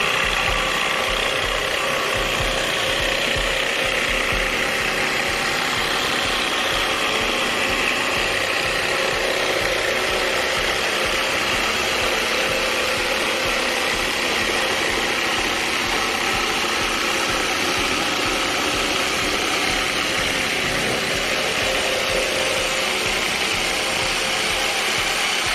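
A Milwaukee M18 FBJS cordless jigsaw runs steadily and loudly up close, a continuous buzzing mechanical drone with no talk over it.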